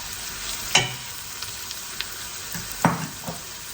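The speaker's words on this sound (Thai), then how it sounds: "เราก็ใส่กุ้งแห้ง ที่เราแช่น้ำจนนิ่มลงไปผัดค่ะ" Garlic and soaked dried shrimp stir-fry in a pan with a soft sizzle, punctuated by a few sharp clanks of a utensil scraping and striking the pan.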